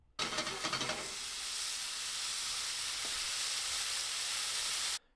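Brussels sprouts sear in a hot pan, giving a steady, loud sizzle and hiss that starts abruptly and holds evenly, with a brief stirring clatter near the start and no talking.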